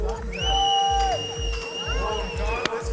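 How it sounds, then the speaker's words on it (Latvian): Spectators at the season-ending Riekstukalns hill climb in Latvia cheer as a top driver reaches the finish, crowd noise blending with a droning engine and a loud announcer speaking over it. "skatītājs sagaida no ovācijām Kārli."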